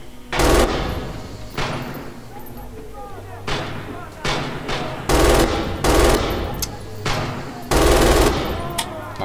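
Bursts of MG 42 machine gun fire in the video game Red Orchestra 2, loud close rattling volleys of varying length separated by short pauses, with a few single shots between the bursts.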